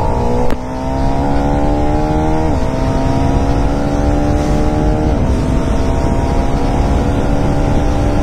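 A KTM Adventure 390 motorcycle rides at a steady pace with a continuous engine drone, and its pitch drops and climbs again at each of two gear changes. Heavy wind rush from riding sits under the engine throughout.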